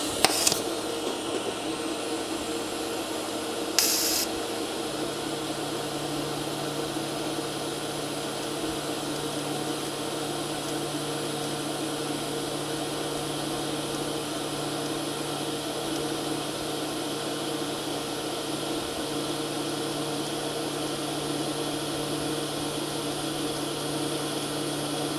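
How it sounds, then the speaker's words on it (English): An R Tech TIG 160FPP welding arc pulsed at 125 per second at full pedal and full amperage, a continuous steady buzzing hum that holds unchanged for the whole stretch after a brief click at the start, with no voices. "I'm going to weld this one at 125 pulses a second."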